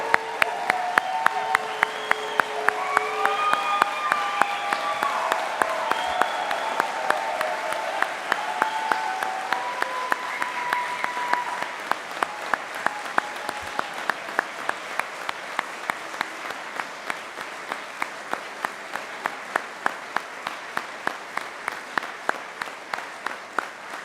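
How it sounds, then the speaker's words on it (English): An audience applauds newly commissioned US Army officers at Xavier University's 2025 ROTC commissioning ceremony, starting as a full round of clapping with a few voices and thinning to a steady rhythmic clap that continues to the end. "Please join me in a round of applause."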